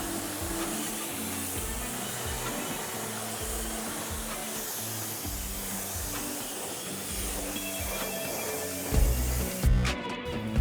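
A steady, close hissing water spray rinses a car wheel throughout, with a few louder bursts and clunks near the end.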